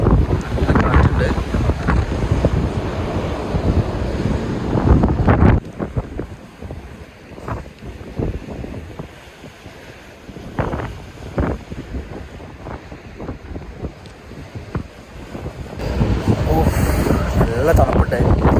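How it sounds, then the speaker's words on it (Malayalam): Strong wind buffeting the microphone on the deck of a ship at sea near Sir Baniyas Island, Abu Dhabi, a constant loud roar with gusts and a rushing wash of water beneath, with a person talking over it. "നല്ല തണുപ്പുണ്ട്, നല്ല കാറ്റുണ്ട്."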